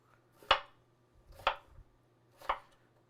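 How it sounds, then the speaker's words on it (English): Knife cutting potato blocks into half-inch cubes on a board for a potato leek soup, three crisp, evenly spaced chops about a second apart, close and clear with quiet in between. "And then I'm going to cut it in cubes."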